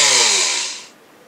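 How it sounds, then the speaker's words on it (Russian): A drill bores out a camera lens block in short bursts: one brief, loud, high motor whine that spins down and fades to near silence within about a second. "подсверливаем отдельно взятый линзоблок"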